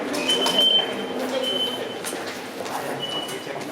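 Steady rumbling of a Tokyo subway train in motion, with metallic squeals and faint rattles over a continuous hum.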